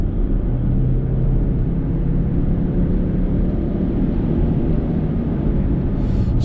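BMW X3 20i M Sport SUV accelerating from 70 to 110 km/h, heard from the cabin as a steady, loud low engine and road rumble that holds constant throughout.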